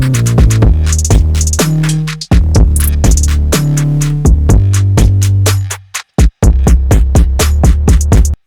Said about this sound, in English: That turned that 808 into a mean 808.